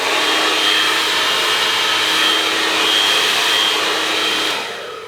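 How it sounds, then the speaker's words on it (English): A conventional blow dryer runs at full power with a steady, loud, airy roar that holds evenly and then tapers off at the very end. "Here is the conventional blow dryer."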